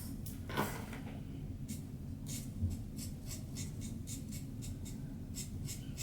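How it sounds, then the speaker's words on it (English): A marker taps and strokes across paper while coloring a sunflower teacup design, producing faint, close, repeated soft taps and scratches in an uneven rhythm over quiet room noise, with no talking. "Is it crazy that I like the sound of hearing the marker hit against the paper?"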